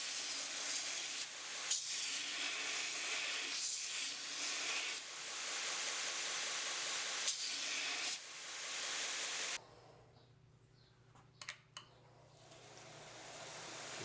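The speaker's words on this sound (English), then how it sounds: "now you're going to basically grind those all the way or sand those all the way with a finer" A 2x72 belt grinder sanding a knife vertically with a finer grit belt gives a steady, loud abrasive hiss that swells rhythmically with each pass, then cuts off, leaving near silence and a few small clicks.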